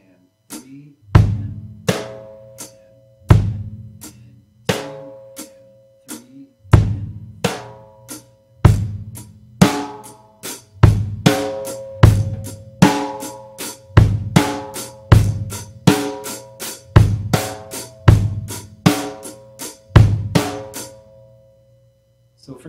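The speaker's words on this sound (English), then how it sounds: "start with your hi-hat, make sure you're counting 1 and 2 and 3 and 4 and add your kick drum, then get your snare in there on 2 and 4" Acoustic rock drum beat of steady hi-hat eighth notes with kick drum and snare landing on beats two and four, played loud and close at a moderate tempo, the groove running evenly for over twenty seconds with no talking.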